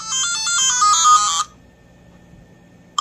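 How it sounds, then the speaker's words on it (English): Loud electronic loading jingle from the Magic and Legend game, a bright melodic beeping tune for about a second and a half, then near silence with a brief click at the end. "And here it's gonna load up. Magic and Legend."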